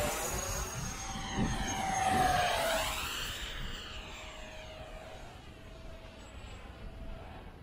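A fixed-wing airplane landing, its engine drone swelling to a loud pass near the middle with a falling whine, then easing off while a steady hum remains; no talk.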